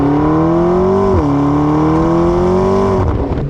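A McLaren 650S Spider's twin-turbo V8 holds a deep, loud rev close by, pitch rising smoothly, dipping briefly, then climbing again before the engine note drops away near the end.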